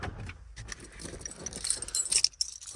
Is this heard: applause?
no